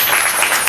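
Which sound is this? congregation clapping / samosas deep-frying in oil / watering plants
congregation clapping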